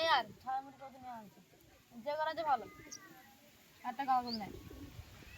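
Pigeons coo in a loft during a bird-catching session, three clear rounds of throaty cooing close by, with quieter background noise between them.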